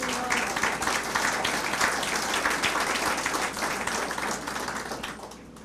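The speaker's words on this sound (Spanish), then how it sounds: "Den un aplauso al Señor Jesús" A church congregation at a Sunday sermon bursts into sustained applause, a dense wash of many hands clapping that holds steady and then eases off toward the end.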